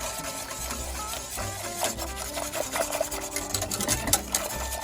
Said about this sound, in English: I'm gonna keep whisking this till the whole flour, every bit of it, is dissolved